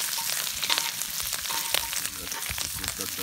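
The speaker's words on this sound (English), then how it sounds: "about 30 seconds to cook your bacon with the murrika" Bacon sizzles and crackles steadily on a hot murikka griddle pan at a summer cottage, loud and close with dense popping spatter throughout.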